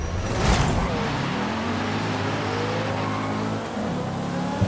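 Race car engine in Forza Horizon 5 accelerating off the start line, a loud steady roar with rising revs and gear shifts, the engine note climbing in pitch and droning on without pause.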